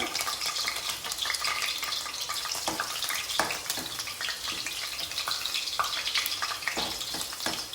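Garlic and curry leaves frying in a couple of spoons of hot ghee, a dense, steady crackling sizzle with stirring, close and continuous, with no talk.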